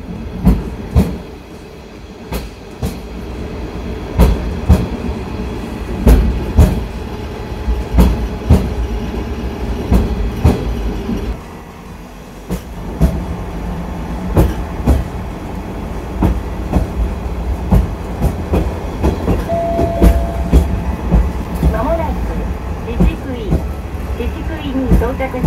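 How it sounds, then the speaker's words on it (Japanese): The Asa Seaside Railway DMV, a bus-train running on rails with only two wheels per side, gives a loud, sustained rumble from inside the cabin, punctuated by irregular clattering rail-joint clicks and a brief quieter lull midway. "この DMV は車輪が片側につき2つしか用意されていないので、通常では聞けない珍しいジョイント音を聞くことができます。"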